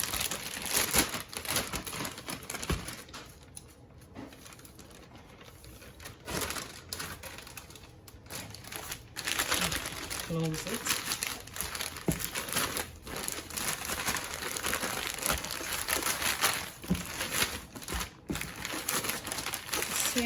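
Catfish nuggets and flour shaken in a plastic bag, close and busy crinkling and rustling of plastic in irregular bursts, with a brief spoken remark partway through.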